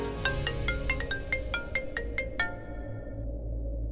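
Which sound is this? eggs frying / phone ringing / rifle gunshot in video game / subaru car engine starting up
phone ringing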